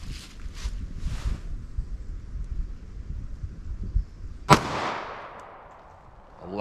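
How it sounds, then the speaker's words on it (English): A single sharp gunshot from a Ruger LCP .380 ACP pocket pistol fired with hot ammunition cracks loudly and close, then rings out in a decaying tail, after a few seconds of quieter handling noise. "let's see how close we get to that 1050 feet per second out of this little LCP here"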